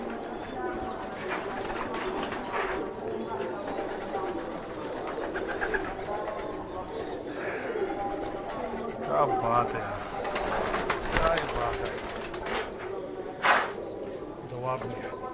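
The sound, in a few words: pigeons cooing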